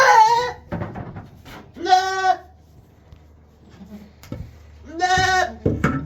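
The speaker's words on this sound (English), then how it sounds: "What's wrong with my little goat?" A goat bleats twice, loud and close, with wavering calls spaced a few seconds apart and soft shuffling and quiet stretches between them.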